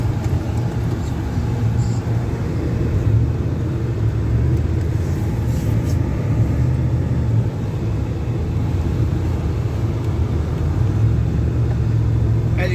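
Ford F-Series pickup truck engine idling at low revs after a donut, a steady close low rumble holding evenly throughout with no talk.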